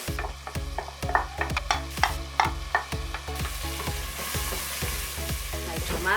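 Blended tomato frying in a pot for beef pilau, stirred with a utensil, giving repeated scraping strokes over a loud, close sizzle that settles into a steady fry.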